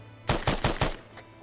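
A burst of four rapid, loud gunshots rings out close by during a combat amphibious reconnaissance operation, each crack sharp and evenly spaced, followed by a fainter trailing shot over a low steady hum.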